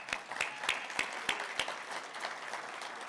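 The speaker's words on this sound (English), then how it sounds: "we can clap for that." Applause from an audience at an Ethos 50th anniversary celebration, starting with a few sharp, evenly spaced claps up close, then blending into a softer scattered patter from the crowd.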